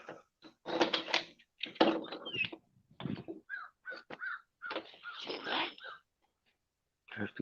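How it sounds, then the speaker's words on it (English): Crows cawing outdoors on a cold morning, a series of harsh, repeated caws in irregular bursts, fairly close and clear against a quiet background. "There's the crows."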